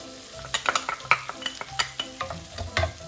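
Chopped shallot sizzles and crackles in a pan as it is stirred, with short bursts of frying and scraping at close range and no talk.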